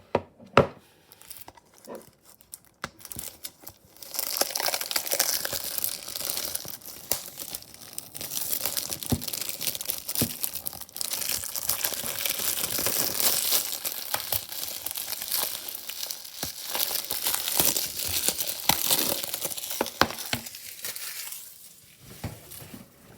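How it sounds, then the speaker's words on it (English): Plastic wrap crinkles and crackles loudly and continuously as it is peeled off a DVD case of Pete's Dragon (2016), close up and alone, starting after a few seconds of near quiet. "by taking off the plastic and open it"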